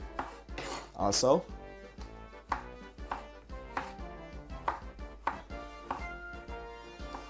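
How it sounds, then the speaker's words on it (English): A knife cutting up tomato on a board, a steady series of distinct chops at an even rhythm, close and moderately loud, with a brief word spoken over it. "This is some tomato which I'm cutting up"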